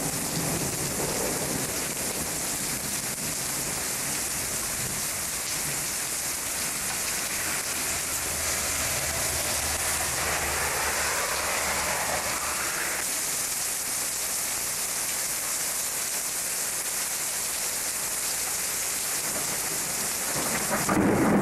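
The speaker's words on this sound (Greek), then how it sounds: "Αστράφη και βροντάκι." Steady heavy rain pours down in a village at the Greek–Albanian border in Kastoria, with low rolling thunder rumbling underneath for much of the time, no voices present.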